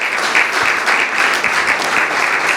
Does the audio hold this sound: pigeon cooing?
no